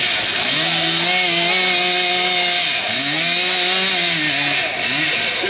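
A chainsaw whines loudly and continuously, its pitch dipping and rising as it carves wood at a steam fair, close by with no voices.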